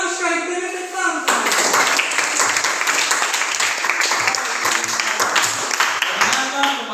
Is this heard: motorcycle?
no